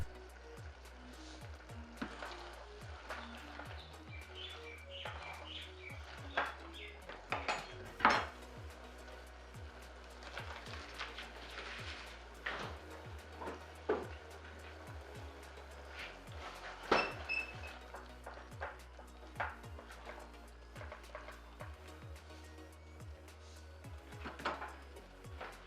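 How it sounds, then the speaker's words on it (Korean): Duck and mushroom risotto being stirred in a pan after olive oil and butter are added, with repeated soft scraping and clinking of a utensil against the pan and a low steady hum underneath. "올리브오일을 넣고 잘 섞어줍니다"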